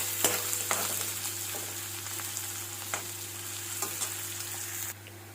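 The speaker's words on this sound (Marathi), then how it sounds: "हे सर्व टाकल्यानंतर ह्याला छान असं परतून घ्यायचं आहे।" Spices sautéing in a pan for okra curry, a continuous close sizzle with occasional sharp crackles and light stirring, no voices.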